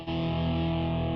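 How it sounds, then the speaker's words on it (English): An electric guitar played through the metal distortion setting of a Valeton Rushead Max pocket headphone amp sustains one thick, buzzing chord for about a second, close and alone. "I think they call it distortion."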